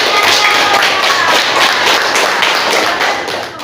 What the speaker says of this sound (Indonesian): Ya, beri tepuk tangan buat ini.